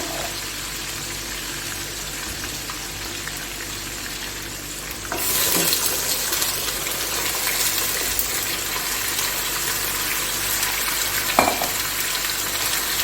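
Potatoes and garlic cloves hit hot oil for achari aloo sabzi, a quiet background suddenly bursting into a loud, continuous close-up sizzle that holds steady, with a brief clatter of stirring near the end.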